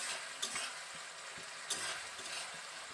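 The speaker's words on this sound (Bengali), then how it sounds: "অবশ্যই সয়াবিন ক্যারি বানানোর সময় মশলাটাকে কিন্তু ভালো করে কষিয়ে নিতে হবে" Spiced masala for a soybean curry is stir-fried in oil, with a soft steady sizzle and a couple of distinct spatula scrapes against the pan.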